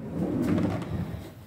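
A craft room storage drawer for sewing supplies slides open or shut with a continuous low rumbling scrape lasting over a second, close and fairly loud.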